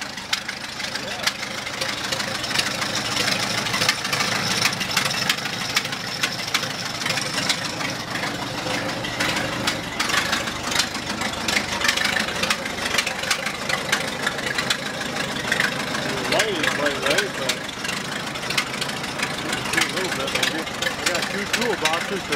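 An old tractor's engine idles at an even, steady rumble after being cranked over. The sound stays constant throughout.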